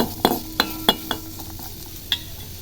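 Carrots and beans sautéing in ghee in a pan, a soft sizzle punctuated by several sharp clinks and taps of a spoon against the pan, close and otherwise quiet.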